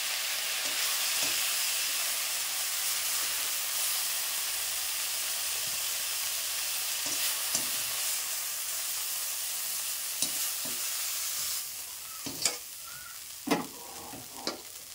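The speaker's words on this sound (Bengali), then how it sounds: "তো দেখো এবার কিন্তু আমার ব্রোকলিটাও ভাজা হয়ে গেল।" Broccoli fries in oil in a wok for a vegetarian meal, making a steady loud sizzle. Clatters and scrapes from a spatula come through near the end.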